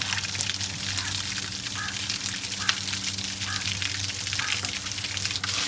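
Water gushes from a borewell motor pump at a fish farm, a continuous splashing, sizzling rush over a low steady motor hum throughout.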